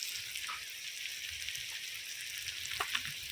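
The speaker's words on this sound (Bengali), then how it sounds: "টমেটোটাও পেঁয়াজের সঙ্গে ভালো করে ভেজে নেব" Tomatoes and onions fry together in a pan, producing a steady mid-loud sizzle with a few faint pops and stirring taps near the end.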